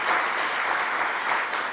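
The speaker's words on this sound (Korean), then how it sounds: "박수 한번 합시다" Church congregation applause welcoming a young member at a Sunday worship service, a brief, dense burst of many hands clapping evenly at moderate distance.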